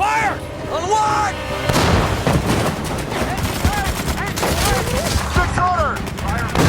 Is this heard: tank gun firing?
yes